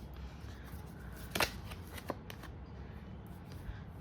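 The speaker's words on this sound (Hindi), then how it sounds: "एक्स्ट्रा ऑरिकल कार्ड्स लेते हैं" Oracle cards shuffled by hand for a tarot-style reading: a quick riffle of papery flicks, then a single softer card snap, close and clear over a faint room hush.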